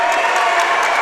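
A crowd at a high school basketball game between Huntington St. Joe and Wayne gives a loud, steady roar of applause and cheering, close and continuous for about a second.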